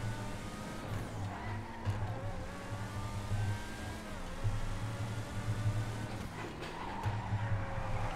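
A Deveste Eight supercar engine in GTA 5 drones continuously, its pitch rising and falling through gear changes and throttle shifts, moderately loud and with no talking.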